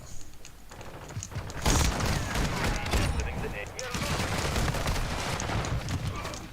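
Dense gunfire in the online shooter Warzone, with rapid, sustained bursts that grow loud after a quieter opening, and voices talking over the shooting.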